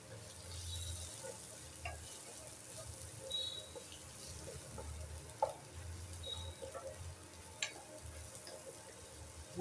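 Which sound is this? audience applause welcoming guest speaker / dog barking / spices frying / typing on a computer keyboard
spices frying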